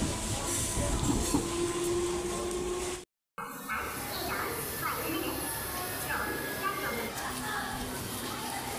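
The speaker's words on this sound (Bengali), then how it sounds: "তো বন্ধুরা ব্যান্ডেল জংশনের 7 নম্বর প্ল্যাটফর্মে আমাদের ট্রেন ঢুকছে" A Bandel–Katwa local train pulls into platform 7 at Bandel Junction with a loud, continuous rumble and hiss of rolling wagons, nearby and sustained, broken by one brief dropout.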